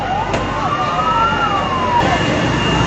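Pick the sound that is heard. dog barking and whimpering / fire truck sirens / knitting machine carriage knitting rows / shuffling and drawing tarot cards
fire truck sirens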